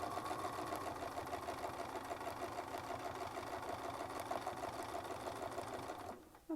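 A sewing machine stitching quilt pieces with a Westalee Spin E Fex ruler, a fast steady mechanical whir and needle patter running close and continuous, then stopping abruptly near the end.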